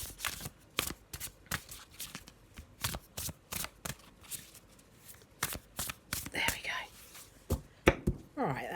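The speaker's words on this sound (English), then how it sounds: "I'm just going to have a little shuffle of them, see what we've got." Oracle cards are shuffled close up in repeated quick riffling bursts, a crisp papery rhythm with brief pauses between runs.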